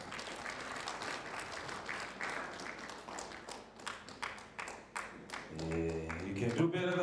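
An audience applauds a local municipal representative at an awards showcase for local economic development, steady clapping filling the room for several seconds, joined near the end by music and voices.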